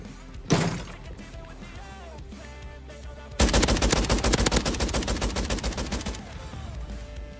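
Gunfire in the Warzone video game: a single loud shot early, then a sharp burst of rapid automatic fire that rattles for nearly three seconds before trailing off under background game noise.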